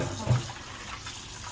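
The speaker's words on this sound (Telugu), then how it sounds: "రొయ్యలు కడిగేసేసి వేడి నీటిలో వేసి ఉంచితే బాగా కడిగేసేసి 2-3 సార్లుగా కడుగు" Prawns being rinsed under running water in a kitchen while preparing a prawn fry, a steady wash of water with a brief louder splash near the start, close and moderately loud.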